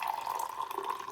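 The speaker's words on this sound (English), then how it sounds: "I'm pouring myself some ginger tea" Ginger tea pouring at home, a steady continuous liquid trickle heard close and alone for about a second.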